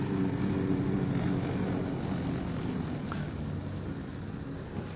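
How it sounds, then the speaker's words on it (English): A snowmobile engine drones at a ski resort, a low steady rumble that fades slightly as it passes, under breezy outdoor noise. "All right, snowmobile."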